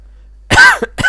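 A person coughs close into a microphone, one sharp, loud cough followed by a brief second hack.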